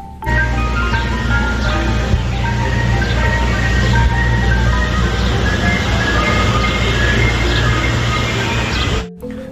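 A toy ice cream truck plays a looping electronic jingle of bright repeating beeps over a steady mechanical whir, close and fairly loud, cutting off abruptly at the end.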